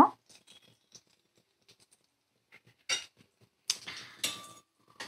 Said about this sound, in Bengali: এগুলো আমি এবার একে একে একটা পাত্রে তুলে নেব সার্ভ করে দেবার জন্য